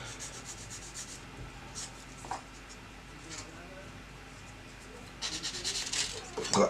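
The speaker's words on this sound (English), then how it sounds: "all I'm doing, like I say, really is just trimming up. Just a quick swipe over each part" Plastic parts from a Tamiya 1/48 de Havilland Mosquito model kit being trimmed, quick rasping swipes and scratchy rubs close up, growing louder and busier toward the end, with faint speech underneath.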